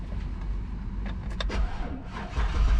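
A Chevrolet Tahoe with a transmission no-shift fault starts up: brief cranking clatters give way to a low, rough engine rumble that builds toward the end.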